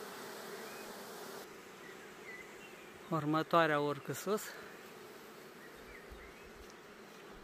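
Honey bees buzz around a beehive frame in a steady, diffuse hum, with a short burst of spoken Romanian partway through.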